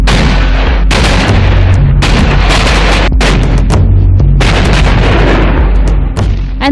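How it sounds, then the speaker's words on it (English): A massive Bofors artillery gun firing in combat: a rapid series of loud, booming shots with sharp onsets and rolling echoes, one after another, dense and close, under a constant low rumble. "India went all guns blazing with this massive Bofors gun that destroyed enemy bunkers"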